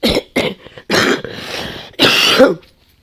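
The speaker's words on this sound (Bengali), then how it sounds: "আমার কাশিটা এখনও কমেনি" A person with a lingering cough hacks several times in close, loud bursts, a few short ones, then a longer rasping throat-clearing cough and a final hard cough that trails off into quiet.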